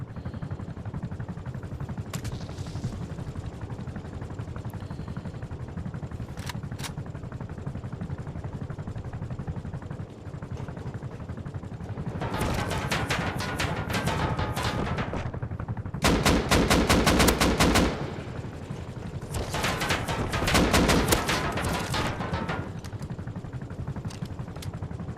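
Automatic gunfire from the Rust video game, aimed at a patrol helicopter, comes in several loud sustained bursts over a constant rumbling background, with the heaviest volleys falling in the second half.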